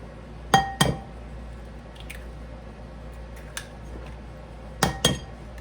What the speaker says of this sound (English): we're going to crack 4 eggs into a bowl